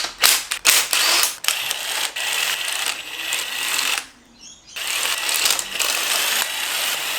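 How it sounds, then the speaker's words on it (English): A wrench working nuts off the cylinder head studs of a Ford Barra engine during a build, with rapid metallic ratcheting clicks in bursts, a brief pause, then more steady close clicking. "Taking nuts off."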